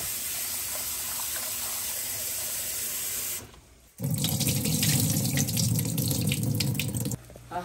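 Water runs steadily into a clay pot as millet is rinsed, a constant tap-and-splash wash that briefly stops, then returns louder and fuller with sloshing grain for several seconds before easing off.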